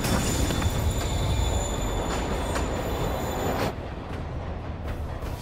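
A train pulls away in the Spider-Man video game, a steady loud rumble of wheels and carriages with faint high squeals that drops in level partway through as it recedes.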